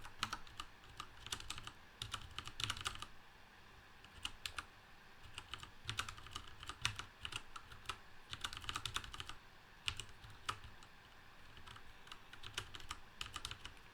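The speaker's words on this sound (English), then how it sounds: "good little finger typing exercise there" Steady rapid typing on a computer keyboard while programming in C, close and clear, with quick bursts of keystrokes running throughout and no voices.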